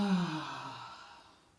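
A single soft exhaled breath during a seated chair yoga fold, starting with a brief voiced sigh and trailing off gradually into quiet, close to the listener.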